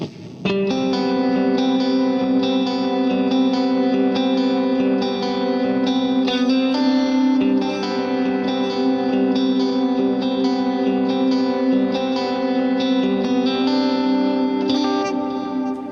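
An electric guitar plays sustained, shimmering notes drenched in echoing dotted-eighth digital delay and heavy reverb, the repeats blending into a continuous wash.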